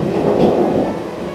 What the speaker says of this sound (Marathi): इथे जबरदस्त पाऊस आहे